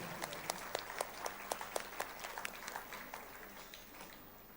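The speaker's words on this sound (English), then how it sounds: "Let us give our own selves a round of applause as we bring this beautiful gathering to a graceful close." Audience at an inter-religious gathering in a basilica clapping to close the event, with distinct individual claps standing out over a faint, reverberant background before gradually thinning out.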